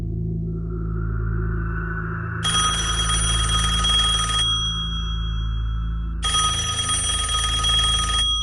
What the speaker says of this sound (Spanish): Ella podía escuchar cómo sonaba el teléfono de casa mientras que ella marcaba.